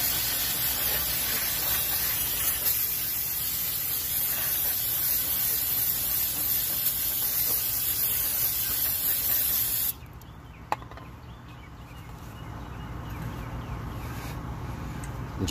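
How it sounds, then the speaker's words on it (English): Brake cleaner sprays onto the front brakes of a 2011 Camaro SS as a steady, loud pressurized hiss that runs unbroken for about ten seconds, then cuts off, leaving quieter workshop background. "Brake cleaner."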